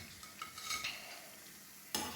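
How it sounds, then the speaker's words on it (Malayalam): Crispy leftover-rice snack being scooped out of hot frying oil, a faint sizzle with soft metal scraping and clinks, ending in a sharper spoon knock against the pan. "ഇനി നമുക്കിത് എണ്ണയിൽ നിന്ന് കോരി മാറ്റാം."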